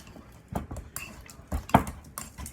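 Cream cheese mashed in a bowl with a utensil, giving a few soft irregular scrapes and knocks against the bowl, close and fairly quiet, with no talking.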